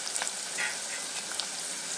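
Onion pieces are frying in a pan with salt for a prawn curry, giving a soft, continuous sizzle with faint crackles and occasional light ticks, heard alone without voices.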